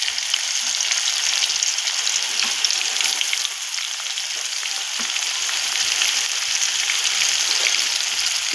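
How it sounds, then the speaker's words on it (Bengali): Onions frying in oil in a wok while cooking a fish and cauliflower-potato dish give off a steady, dense sizzle that hisses loudly and evenly throughout, with no voices. "পেঁয়াজগুলোকে একটু লাল লাল করে ভেজে নেব।"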